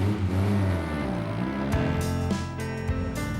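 A 1958 Austin Healey Frog Eye Sprite, a small open-top, rear-wheel-drive manual sports car, its engine droning and rising as it accelerates and shifts up, close and continuous with revs climbing, dipping and climbing again.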